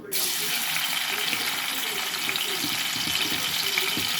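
Sliced onion and green chilli hit hot oil in a kadai and fry with a loud, steady rushing sizzle that starts abruptly and continues evenly throughout, close up.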